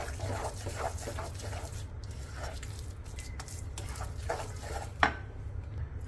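Atta barfi mixture, made without mawa and with dry fruits, stirred in a pan over a gas flame, giving soft scraping and clinking against the metal with one sharper knock near the end, over a steady low hum.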